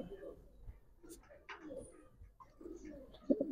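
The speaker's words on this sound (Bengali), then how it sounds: "লালদম একটা কবুতর" Indian Lal Dom pigeon cooing in a few soft low coos, with a louder burst near the end, heard alongside people talking nearby.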